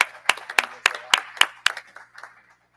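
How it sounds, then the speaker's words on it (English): A small audience at a university board meeting claps for the mothers, a sparse run of distinct hand claps that thins out and stops after about two seconds. "let's give the mothers a round of applause."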